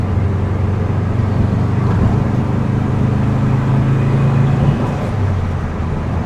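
A 1975 VW Beetle engine hums steadily while driving, with a low drone and road noise throughout and no talking.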